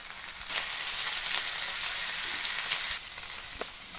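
A cup of washed drumstick leaves is stirred into lightly fried onions for drumstick-leaf fried rice, giving a close, steady sizzle broken by a few soft scrapes and knocks of the spoon.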